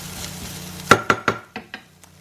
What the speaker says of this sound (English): Okay, this is just beginning to sizzle now,